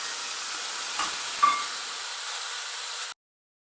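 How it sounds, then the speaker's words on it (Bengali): Shrimp drop into hot oil in a wok, giving a steady moderate hiss with a small burst of spatter, before the sound cuts off abruptly. "কড়াই তেলটা গরম হয়ে গেলে এবারে চিংড়ি মাছগুলোকে ছেড়ে দিই"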